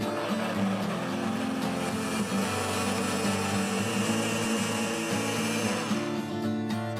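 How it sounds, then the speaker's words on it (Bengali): Electric blender whirring steadily as it purées melon juice, a continuous loud motor drone that holds for several seconds and then shifts pitch near the end. "এখন আমি ব্লেন্ডার মেশিনে ব্লেন্ড করে নিচ্ছি।"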